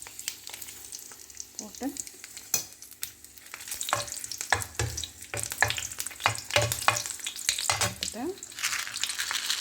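Dried red chillies crackle and fry in hot oil for a South Indian tempering, with stirring scrapes and a steady sizzle that grows busier partway through; a voice speaks briefly.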